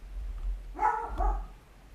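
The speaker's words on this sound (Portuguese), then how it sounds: "Latidos." A single dog gives one short bark in the middle, somewhat distant, over a low rumbling background with no other sounds.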